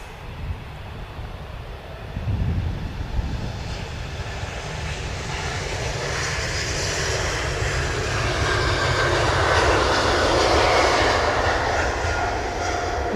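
A Qatar Airways airliner on final approach at Manchester Airport roars in from a distance, its engine noise swelling into a broad, steady rumble that grows louder over time.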